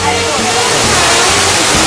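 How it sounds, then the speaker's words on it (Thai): A big waterfall near Luang Prabang, Laos, roars loud and close, a dense unbroken rush of falling water that fills the whole stretch. "สิ่งหนึ่งที่อยากให้ทุกท่านมาเยียนคือน้ำตกจากดวงสูงครับ"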